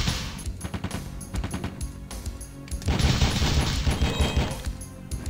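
Video game gunfire in The Fifth Element comes as rapid, repeated shots, loud and close, building to a denser stretch of sustained firing midway through.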